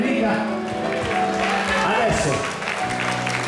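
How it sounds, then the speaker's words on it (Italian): Audience at an Italian orchestra dance applauding for Federica, clapping spread through the room beneath music and a voice speaking. "facciamo un applauso alla nostra Federica"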